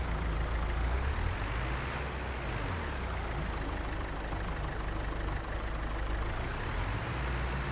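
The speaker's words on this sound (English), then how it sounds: "this tractor is just very slow working, very slow driving around everywhere" A slow tractor in the Farming Simulator 22 video game drones with a steady, low engine rumble that holds a constant level throughout, with no talking over it.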